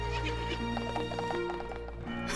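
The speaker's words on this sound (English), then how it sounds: "Hey, easy, boy. This horse is certainly spirited." A spirited horse from the game Professor Layton vs. Phoenix Wright whinnies loudly while hooves clip-clop in quick rhythm over a steady musical background.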